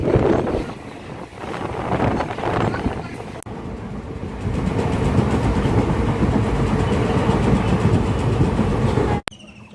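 An Indian Railways Guwahati–New Bongaigaon passenger special rumbles along steadily from inside the coach, with wind buffeting and faint rhythmic rail clatter, ending in a sharp knock.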